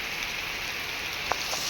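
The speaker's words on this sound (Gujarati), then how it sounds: "વરસાદ પડ્યો છે" Rain falls steadily outdoors in June, a constant even patter with one brief louder drip near the end.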